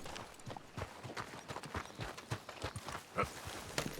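A horse's hooves clip-clopping in Red Dead Redemption 2, a steady run of faint rhythmic knocking steps at a brisk trot, heard alone.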